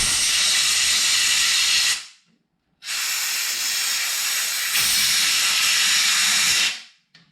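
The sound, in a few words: compressed air blowing out a tractor seal housing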